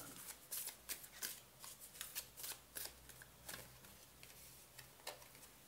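Tarot cards shuffled by hand, close and quiet, making repeated soft riffling and flicking bursts in an uneven rhythm with no talking.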